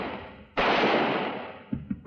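Gunfire in a western shootout, one sharp, loud shot whose echo rings and slowly decays, followed by a couple of fainter knocks or distant reports.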